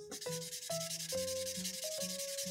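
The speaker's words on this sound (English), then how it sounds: "now we can color in the rest of this" A Paw Patrol magic ink pen scribbles across paper while a picture is coloured in, a steady close rubbing scratch that runs under soft, plinking background music tones.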